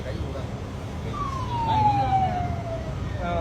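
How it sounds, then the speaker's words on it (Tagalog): A police car siren sweeps past outdoors, one rising-and-falling wail that swells and fades over a few seconds against steady street noise and low rumble. "Oh, may dumaan pang pulis"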